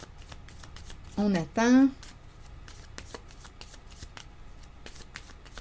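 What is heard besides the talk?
tarot cards being shuffled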